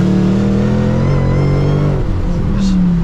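A V8 sports car, C6 Corvette ZR1 or Shelby GT500, accelerates with a steady loud engine drone and a whining tone that rises in pitch, continuous throughout at close range.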